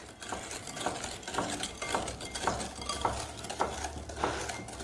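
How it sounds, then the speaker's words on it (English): Cookie batter being stirred in a bowl, a steady rhythmic scraping and clinking of a spoon circling about twice per second, close and moderately loud with no talk. "Mixing the batter."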